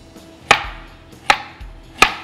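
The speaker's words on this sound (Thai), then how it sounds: "ผมหั่นเป็นชิ้นตามยาวเพราะว่าอยากจะซอยเขานะครับ" A knife chops through ginger lengthwise on a cutting board for red grouper stir-fried with ginger, three sharp, close thuds spaced under a second apart against a quiet background.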